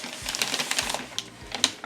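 A mailed parcel is opened by hand, producing quick dry tapping, scraping and tearing clicks in an irregular rhythm, close and fairly quiet, with no voices.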